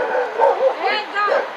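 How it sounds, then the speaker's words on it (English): Feral street dogs in Bucharest give a quick run of close, high yips and short barks with a whimpering edge, several in succession over about a second and a half. "So the dogs bark, but they're quite friendly."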